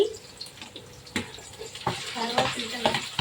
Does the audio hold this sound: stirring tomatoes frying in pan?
yes